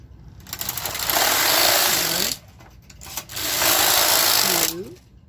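A knitting machine carriage sweeps across the bed knitting rows of a red sweater back, two loud rasping whirring passes separated by a short pause, each ending with a small click.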